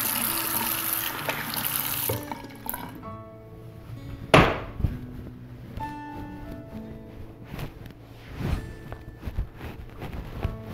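Tap water runs into a sink while a fresh homemade face pack is rinsed off without soap, the flow giving way to scattered splashes, drips and a few sharp knocks nearby.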